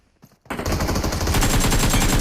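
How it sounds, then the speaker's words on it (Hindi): Gunfire erupts in a battle royale video game: after a brief quiet, loud rapid automatic bursts rattle on continuously at close range. "ये बंदे क्या फायरिंग कर रहे हैं"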